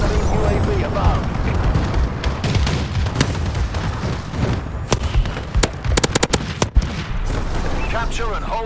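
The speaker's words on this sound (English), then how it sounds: "Friendly bombing run clearing the way." Rolling explosions and bursts of gunfire from a friendly bombing run in Call of Duty: Advanced Warfare multiplayer, loud and continuous, with sharp blasts near the middle, under game announcer voice lines.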